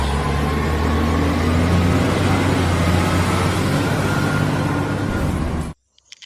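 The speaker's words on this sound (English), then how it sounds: "Wow, heavy container truck." A heavy container truck in a cartoon rumbles with a steady low engine drone, loud and continuous, then cuts off abruptly near the end.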